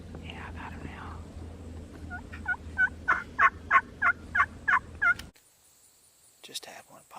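A wild Osceola turkey gobbles in a rapid series of about eight loud, rhythmic bursts as it answers a call, some distance off, followed by silence and a faint later sound.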